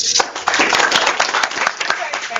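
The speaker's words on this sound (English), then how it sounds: "So one more round of applause for her." A crowd at a community diversity event gives a dense round of applause, loud and close, with crisp individual claps standing out in the wash.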